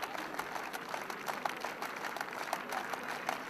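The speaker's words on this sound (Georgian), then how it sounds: "გულშემატკივრებიც ამხნევებენ ახლა ტაშით" Rugby fans applaud steadily throughout a Germany versus Georgia Rugby Europe Championship 2017 match, a continuous crowd clapping heard from a distance.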